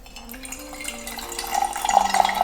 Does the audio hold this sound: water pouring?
yes